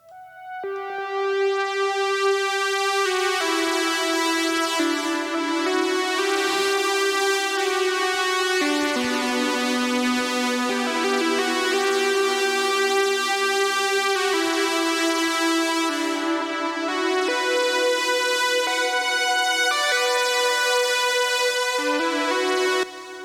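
Repro 1 synthesizer preset Arc, Hear the Calling played by itself: a sustained, harmonically rich atmospheric pad shifting slowly through chords, steady and fairly loud throughout.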